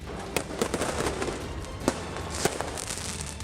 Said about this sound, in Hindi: फिलिस्तीनियों ने पटाखों की ऐसी झड़ी लगाई